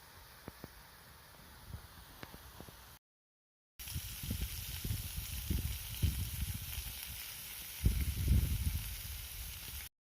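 Bacon and mushrooms sizzle in a pan at a campsite, a steady hissing fry with small pops, quiet at first and then louder and fuller after a brief break.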